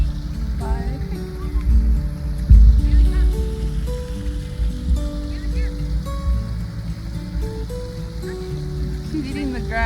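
Creek water flowing in the Red Hills during a lunch stop on a trail ride, a steady rushing wash running throughout while people talk over it.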